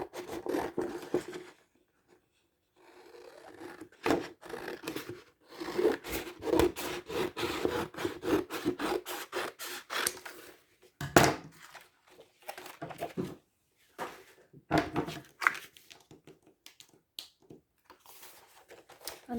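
Excess paper is trimmed from the edges of a glued album in quiet, intermittent bursts of scratchy cutting strokes separated by brief pauses.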